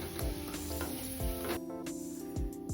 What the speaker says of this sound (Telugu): ఇదే నెయ్యిలో ఎండు ద్రాక్ష వేపేసుకోవాలి.